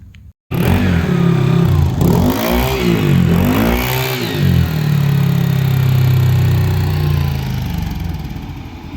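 Motorcycle engine revving on a dyno during a throttle body test, 30 mm and 34 mm sizes: a loud, sustained run with pitch sweeping up and down in repeated surges, then holding a steady high drone to the end.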